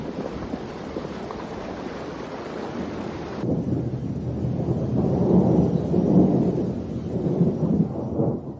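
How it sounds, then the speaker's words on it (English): A thunderstorm with rain sweeps through, heavy broadband rain and wind hiss giving way to deep rolling rumbles of thunder that swell and fade. "Thunderstorms."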